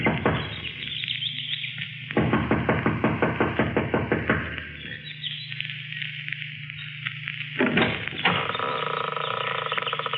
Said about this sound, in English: She knocks impatiently,